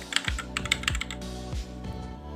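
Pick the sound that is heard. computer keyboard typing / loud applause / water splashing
computer keyboard typing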